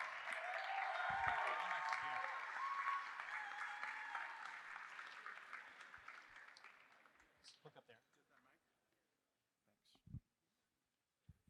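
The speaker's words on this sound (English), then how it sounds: "please give a big round of applause to Morpho" An audience at a closing ceremony and demo event claps for a presenting team, a loud, dense burst of applause that holds for several seconds, then thins into scattered claps and fades to near silence.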